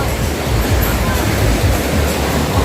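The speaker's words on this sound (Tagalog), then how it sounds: "Lakas ang agos ito" A strong river current rushes loudly and continuously, close by, filling the short stretch with dense churning water noise and no clear voices.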